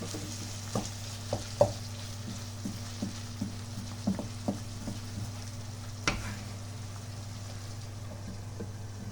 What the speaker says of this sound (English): Let it cook for a while and you can cover it with a lid